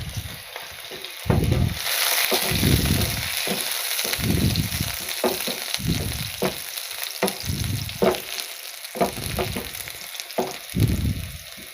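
Garlic and onion fry in a pan as the base for a dhaba-style chana dal tadka: a steady close sizzle runs throughout, broken by repeated scraping stirs of a spoon in a regular rhythm, with no talking.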